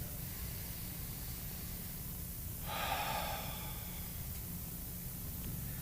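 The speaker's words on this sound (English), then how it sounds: "Once more, I invite you to take a deep breath." A single deep breath drawn during a quiet guided meditation, a soft airy swell lasting about a second near the middle, heard over a steady low hum with no one speaking.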